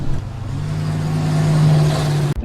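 Police vehicles and a SWAT van roar through a film car chase, a loud continuous engine drone with a steady low hum that swells then cuts off abruptly near the end.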